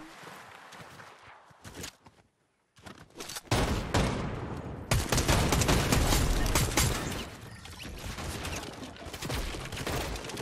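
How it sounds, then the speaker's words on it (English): Rapid bursts of gunfire in the video game Fortnite Battle Royale crackle and boom in a dense, loud barrage, with a brief silent gap early on before the shooting resumes heavier. "I think I know where the gunshots are coming from."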